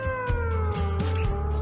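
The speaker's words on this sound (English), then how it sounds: "And Wes, tell me what the cats do at the barn." A cat at a barn lets out a sustained, close meow that holds steady for under two seconds with no talking over it.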